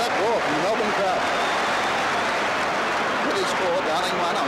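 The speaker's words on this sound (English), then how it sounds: "listen to that roar from the Melbourne crowd" A large Melbourne cricket crowd at a Test match roars and applauds in a steady, dense wash of noise, with a commentator's voice faintly audible over it.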